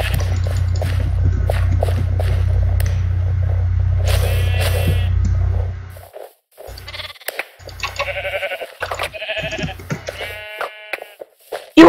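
Sheep bleating in the Minecraft video game, several short wavering calls over steady background game noise, then more bleats in the quieter second half, clear and fairly close.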